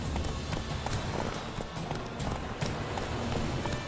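Horse Roach from The Witcher 3 galloping in a steady, fast clip-clop of hooves across a busy game soundscape, with some low rumble and effects mixed in.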